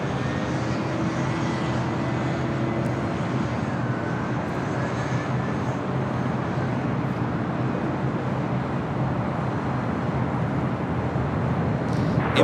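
A United airliner takes off from runway 25 right at LAX, a steady loud broadband jet roar holding throughout with a faint rising whine, no talk over it.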